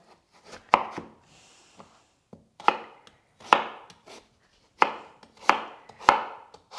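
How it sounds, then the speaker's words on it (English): A knife chops vegetables on a cutting board in sharp, close thuds, coming singly and in quick pairs with short pauses between, loud and clear with no talk. "Cut that half in half and cut again."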